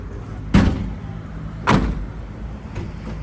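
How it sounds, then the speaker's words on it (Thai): A car door shuts twice with solid thuds about a second apart, close by, while a portable POLO pressure washer setup sits nearby and faint activity continues between the closes. "เอาปิดประตู"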